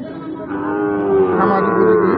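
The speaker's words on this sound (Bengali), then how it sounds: "খামার উপযোগী পালনের উপযুক্ত শাহিওয়াল জাতের ষাঁড় বাছুর" A Sahiwal bull calf at a cattle market gives one drawn-out, close moo that swells and holds for about two seconds, with no talk over it.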